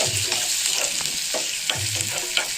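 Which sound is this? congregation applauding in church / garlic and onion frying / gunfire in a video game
garlic and onion frying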